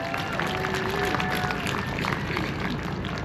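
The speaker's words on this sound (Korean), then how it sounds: "여러분 다시 한번 큰 박수 한번 부탁드리겠습니다" Sustained applause and crowd noise from a large outdoor protest rally of a massage association's regional branch in Uijeongbu, steady and loud throughout, with a tonal whine over the mass of clapping.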